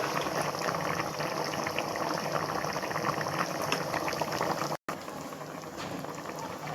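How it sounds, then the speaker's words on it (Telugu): Rice for biryani boils hard in a pot of water, with a dense, continuous bubbling and rolling churn close by that breaks off briefly before it resumes. "ఎసురు మరుగుతుంది కదా"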